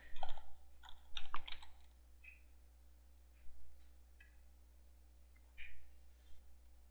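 Someone types a login password on a computer keyboard, with short bursts of close key clicks separated by quiet pauses against a low steady hum.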